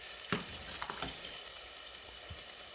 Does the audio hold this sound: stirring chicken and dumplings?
yes